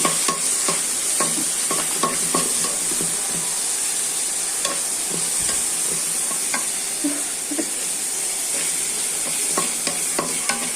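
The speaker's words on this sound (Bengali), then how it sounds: "এখন পেঁয়াজ, রসুন আর কাঁচামরিচ একটু ভেজে নিলাম, তারপরে এখন দিয়ে দিলাম চিংড়ি শুটকি" Onion, garlic, green chilli and dried shrimp fry in a pan with a steady, close sizzle, broken by frequent scraping and clinking stir strokes throughout.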